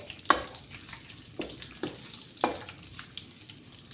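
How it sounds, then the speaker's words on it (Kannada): Crushed ginger and garlic frying in an oil tempering, a soft hiss broken by a few sharp spatters and clinks, fairly faint and close with no talk. "ಬೆಳ್ಳುಳ್ಳಿ ಹಾಕಿ ಒಗ್ಗರಣೆ ಕೊಡಿ"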